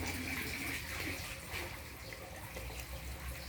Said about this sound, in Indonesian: Oke, kita siram seperti biasa ya